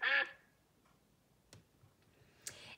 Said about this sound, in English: This is the sound a duck makes.